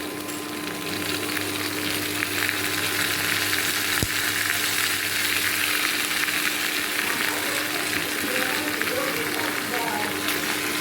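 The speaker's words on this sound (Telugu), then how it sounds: "టమాటా కూడా వేసి రెండింటిని మగ్గించుకోవాలి" Tomato and onion softening in a hot pan for a tomato-onion chutney, a steady close sizzle running the whole way with a low hum beneath, no talking.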